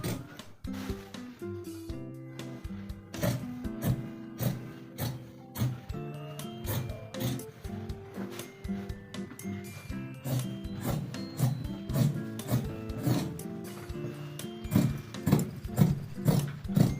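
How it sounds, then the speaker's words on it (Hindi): Scissors cutting cloth for a child's pants along a marker line, rhythmic close snipping and rubbing of fabric in a steady run of short strokes. "जो हमने ये मार्कर लगाया है वहीं पर इस तरह से हमें यहाँ पर कटिंग कर लेनी है।"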